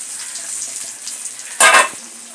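Peas and garlic hit hot oil in a pan of frying chicken curry spiced with Kashmiri chilli powder, giving a sudden loud, hissing sizzle that fades after a fraction of a second into soft, quiet frying.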